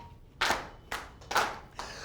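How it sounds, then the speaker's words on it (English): An audience at a sales storytelling talk in Ahmedabad gives four slow, separate, unison claps, each a sharp, fairly loud burst with brief quiet gaps between, in an otherwise hushed room. "Let's give clapping."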